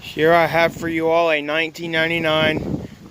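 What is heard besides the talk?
No everyday noise stands out behind the speech.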